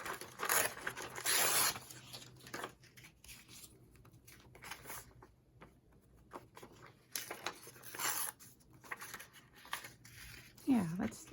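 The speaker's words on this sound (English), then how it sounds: "Let's tear it." Paper being torn by hand for junk journal ephemera, several close ripping and crinkling bursts with quieter handling and rustling between them.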